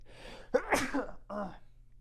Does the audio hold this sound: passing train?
no